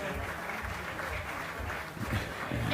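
Applause from a crowd at the Quiff 2017 climbing festival podium presentation, steady clapping that rolls on throughout with a murmur of voices underneath.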